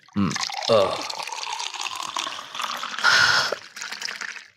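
A drink is poured into a glass at a casual gathering, a steady close trickle and splash that swells briefly near the end. People talk at the start and over the pouring.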